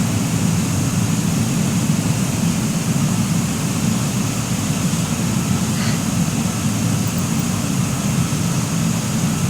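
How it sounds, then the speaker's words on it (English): A Beechcraft twin engine in Microsoft Flight Simulator runs at a steady idle after start-up, a constant loud droning hum with a deep low rumble and no voices over it. "There we go. We have engine start."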